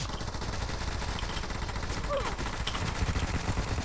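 Rapid automatic gunfire from PUBG Mobile plays steadily throughout, a dense run of shots close and loud, with a voice talking over parts of it.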